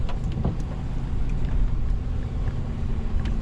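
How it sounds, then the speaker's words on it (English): A generator at an off-grid cabin rumbles with a loud, steady, low drone that lasts the whole moment. "We'll get the key and see the generator fires up."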